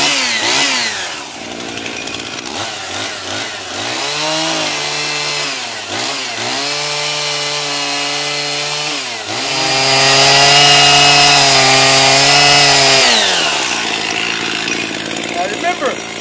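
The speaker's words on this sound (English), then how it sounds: "Let's grab that chainsaw and get to work." A chainsaw revs and bites into wood, its engine pitch rising and falling through several cuts, loud and close, with a higher-pitched whine near the end.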